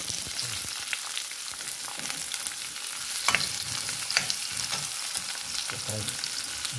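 Steady crackling sizzle of shrimp frying in a hot pan, continuous and close, with occasional stirring scrapes.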